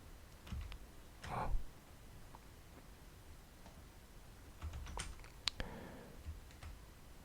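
Keys on a computer keyboard are pressed for Photoshop shortcuts, giving a few faint, scattered clicks and soft taps in a quiet room.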